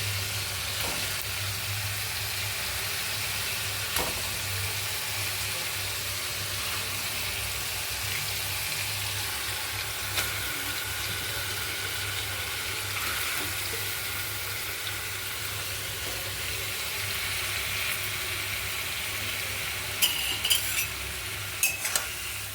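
Fish frying in spice-laden oil in a wok, a steady broadband sizzle holding evenly throughout with a low hum underneath and a few brief clinks near the end.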